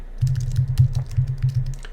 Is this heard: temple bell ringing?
no